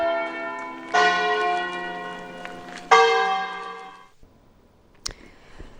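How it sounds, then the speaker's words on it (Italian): Church bells ring out with a strong, rich peal after a wedding in Padua, Italy, swelling twice, then fading away, leaving a quiet pause broken by a faint click. "È il suono delle campane a ritmare il lento uscire dalla chiesa di Francesca e Pietro."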